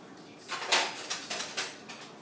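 A metal spoon and dishes rattle and clink close by, a quick run of clatters over a couple of seconds.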